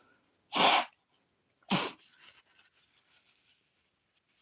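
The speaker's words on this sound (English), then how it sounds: "Let me just blow my nose for a second." Two short, forceful bursts of nasal blowing, the second trailing into softer snuffling and rustling, close and fairly loud.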